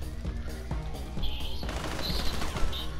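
Gunfire in GTA Online comes as rapid bursts of shots, loud and close, mixed with a busy game soundscape.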